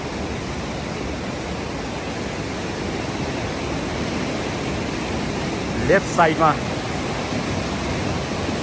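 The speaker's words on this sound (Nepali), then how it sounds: "सङ्लो कलकल एउटा नदी भएको छ" A clear babbling river beside a mountain trekking trail in Dolpa, Nepal, a steady broad rushing flow throughout, with someone briefly speaking over it partway through.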